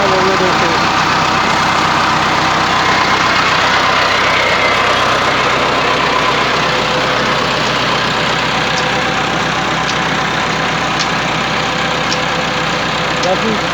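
A Massey Ferguson 385 tractor engine drives a water borewell pump, a loud, steady, unbroken diesel throb near the listener that runs the whole time while people talk over it.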